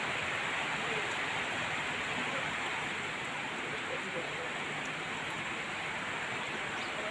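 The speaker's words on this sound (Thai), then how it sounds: "ฝนตกด้วยนะคะเพื่อนๆนี่" Constant soft hiss of out-of-season rainfall at a chicken noodle eatery, uniform and unbroken throughout, with no voices.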